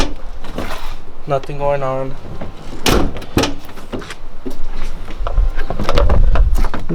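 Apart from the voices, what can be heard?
door of a 2007 Chevy Silverado opening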